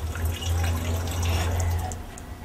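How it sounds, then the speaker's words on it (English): Water jetting from an engine cylinder during an engine rebuild, a steady rushing spray that hisses and splashes continuously, close and fairly loud, with a low hum underneath throughout. "Now water's starting to jet out."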